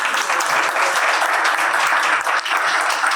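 Audience applause welcoming a panel speaker at a discussion on digital identity in Latvia, a loud, steady wash of clapping from a full room that holds evenly throughout.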